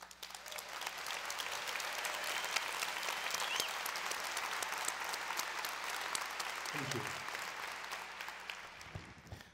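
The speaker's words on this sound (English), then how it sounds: "That was applause if you couldn't hear it" Sustained applause from a large conference audience at SXSW, heard faint and slightly distant, a steady patter of many hands over nearly ten seconds, with a brief voice near the end.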